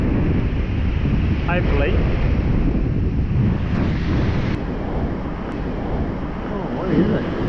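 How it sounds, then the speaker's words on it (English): Strong wind buffets the microphone on an open beach during night fishing for bream and tarwhine, with surf roaring underneath; someone speaks briefly over the steady, loud gusting. "Don't know whether you can hear me over the sound of the wind."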